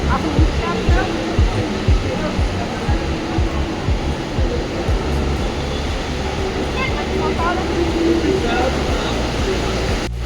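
Steady rushing water from an illuminated fountain, a broad continuous wash of sound that stays loud and even throughout, with faint voices in the background.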